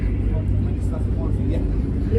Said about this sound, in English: You can actually feel the rumbling from that exhaust.